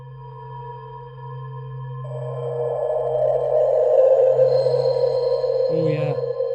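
Omnisphere's Arctic Winds cinematic texture plays as sustained synthesized tones that layer and swell into a brighter airy wash, ending with a short warbling chirp, heard alone without talking.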